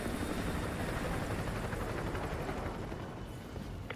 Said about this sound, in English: Helo approaching.